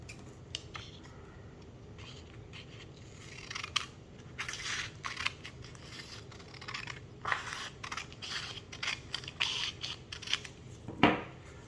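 Scissors cut out a paper strip in a quiet room, giving a series of crisp, irregular snipping and rustling sounds close by, with a sharper snip near the end.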